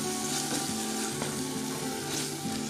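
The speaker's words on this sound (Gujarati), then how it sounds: "ટામેટાં સોફ્ટ થાય ત્યાં સુધી શેકી લઈશું" Tomatoes frying with spices in a pan for ragda patties, a steady close sizzle running throughout with no talk.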